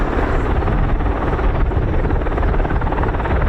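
CV-22 Osprey tiltrotor taxiing at RAF Mildenhall, rotors tilted slightly forward, giving a loud, steady, dense rotor and engine roar that holds constant throughout, close by, with no voices.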